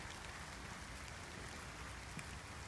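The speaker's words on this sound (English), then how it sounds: "whether it's a drizzle like this or a torrential downpour, I do find it very, very soothing" A light drizzle of rain falls in the woods as a soft, steady, even patter all around, with nothing else standing out.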